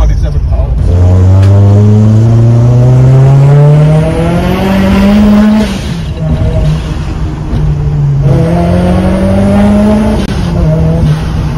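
A turbocharged Mitsubishi Evo with a new turbo accelerates hard on city streets, its engine note climbing loud and close through one gear, dropping at a shift, then surging again, with voices in the car under it.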